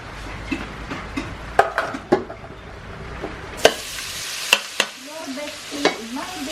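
Food sautéing in a pan in a Philippine home kitchen, a steady close sizzle and frying crackle with sharp clinks of a utensil against the pan scattered throughout.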